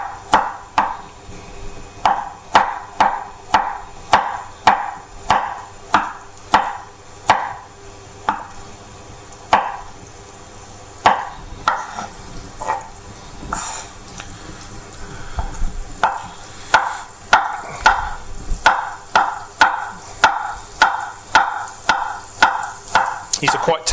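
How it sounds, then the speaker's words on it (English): A knife thinly slices tender baby courgettes on an angle, producing a steady run of crisp, close chopping taps on a board, with a short pause midway before the rhythmic cuts resume. "And then just slice them on an angle very, very thinly."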